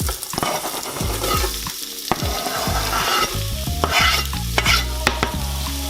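Onions sauté in oil inside a Morphy Richards Total Control soup maker, a loud close sizzle with rhythmic stirring scrapes and a motor-like hum running underneath, no voices.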